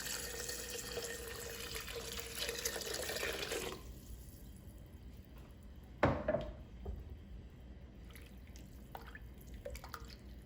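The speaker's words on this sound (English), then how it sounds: "we'll add in the Worcestershire sauce and the beef broth" Worcestershire sauce and beef broth poured into a soup pot for French onion soup, a quiet liquid stream that stops partway, then a single clunk followed by faint drips.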